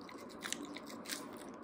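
A Kit Kat Zebra chocolate bar being bitten and crunched, a couple of faint, crisp snaps over a quiet, steady background.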